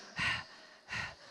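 A voice imitates a toddler's heavy breathing, two loud, drawn-out breaths close to the mic separated by a short pause.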